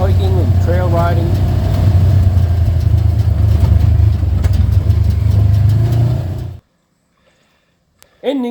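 A side-by-side off-road vehicle engine runs loud and close on a trail ride, a rough steady drone that cuts off abruptly near the end before a brief noise returns.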